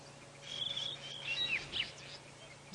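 Several faint, distant fork-tailed drongos call repeatedly while mobbing a Wahlberg's eagle on a morning safari drive. Their sharp, high chirps and whistles come in short bursts over a constant hum, and no one speaks.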